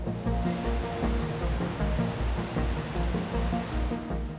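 Artificial waterfalls cascading down the Towers of Life above the SKP-S section of Chengdu SKP give off a continuous, full rushing roar with a faintly pulsing low rumble and no voices.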